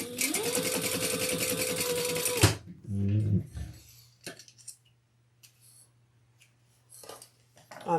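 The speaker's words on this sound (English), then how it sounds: "we're going to sew those together at the seam allowance in the pattern, and it's just the standard seam allowance" A sewing machine runs steadily stitching a seam in leather, a loud whirring hum for a couple of seconds before stopping, followed by quieter clicks and handling noises with a faint background hum.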